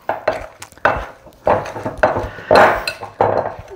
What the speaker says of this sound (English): just mix it to distribute the cranberries and the pistachios well